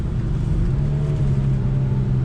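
Infiniti Q50 Red Sport 400 (2019) engine in manual mode dropping down from fifth gear under braking, a steady loud low rumble with a droning engine tone that shifts pitch slightly throughout, with no talking over it.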